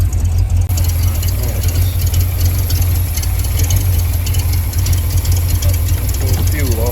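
A neglected Mopar car engine idles on its own, a steady low rumble running the whole time with a constant hiss over it and no voices.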